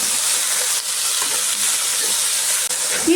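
Spinach leaves and onion fry in hot oil in a pan for palak soup, giving a steady close sizzle and hiss with occasional stirring scrapes throughout.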